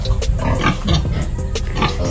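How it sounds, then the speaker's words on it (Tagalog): Close sow grunting, a series of rough snorts and grunts in quick succession, loud and near. "Meron po tayo ditong isang inahin"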